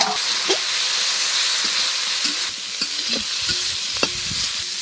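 Small fish sizzling and frying in a pan, cooked village-style for a fish curry, a steady close hiss with occasional soft stirring knocks and spatters throughout.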